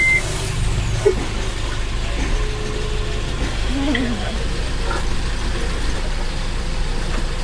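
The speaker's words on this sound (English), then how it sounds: "start the engine." New Yanmar boat engine idling on a sailboat in rain, a low steady mechanical rumble with a few brief beeps and a short murmur from a person.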